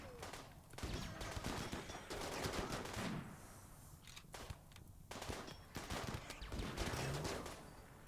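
Weapon fire in the RimWorld colony game: a quiet, rapid burst of gunshots that keeps on and off throughout, with short pauses between volleys.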